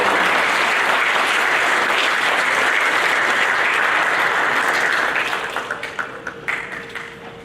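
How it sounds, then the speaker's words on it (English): Audience applauding at a school eighth grade awards ceremony, dense steady clapping filling a hall for about five seconds before thinning out to a few scattered claps. "I want a round of applause for our third Presidential Education Award."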